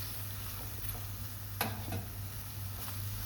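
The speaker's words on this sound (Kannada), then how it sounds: "ತುಪ್ಪಲ್ಲೇ ಸ್ಮ್ಯಾಶ್ ಮಾಡ್ಕೊಬೇಕು" Banana is mashed in hot ghee in a pan over a low flame, giving soft scraping and stirring with a faint sizzle and a couple of sharper taps, with no talking.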